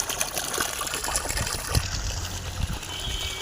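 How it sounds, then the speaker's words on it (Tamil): Water gushing and splashing steadily outdoors from the pipe of a 3 hp borewell pump in Tamil Nadu, India, with a low pump or motor hum underneath and a couple of brief thuds. "தண்ணி எப்படி வருதுன்னு பார்ப்போம்."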